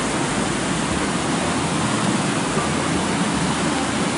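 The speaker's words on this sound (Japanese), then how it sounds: "ここにインディアン水車が回っておりまして" Rushing water of the Chitose River pours around a turning Indian water wheel used to catch salmon, producing a loud, continuous roar like a waterfall, close by and unbroken, with no speech.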